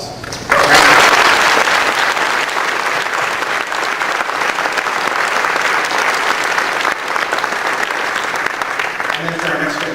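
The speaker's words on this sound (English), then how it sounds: "a big hand of applause" Enthusiastic audience at a 2008 OSCON Google awards ceremony breaking into loud, sustained applause that swells suddenly and continues steadily, with faint voices underneath.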